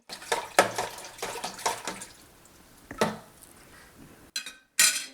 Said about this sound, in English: I'm going to stir in that water before I put the bags in.